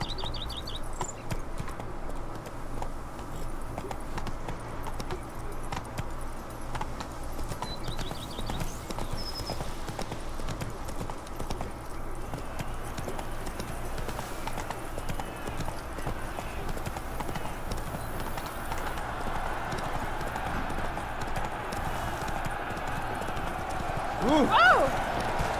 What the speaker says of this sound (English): That's it, Roach. Run, Roach.